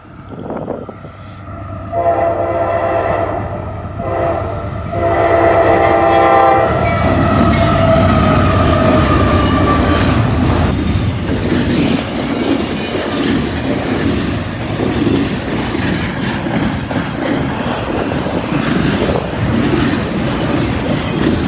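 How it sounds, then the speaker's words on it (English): In Northern Kentucky, a train sounds its horn in long blasts as it approaches, then rumbles past loudly with clattering, squealing wheels for an extended stretch. "Here comes our first train of the day."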